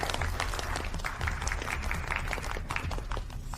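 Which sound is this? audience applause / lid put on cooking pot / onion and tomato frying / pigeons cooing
audience applause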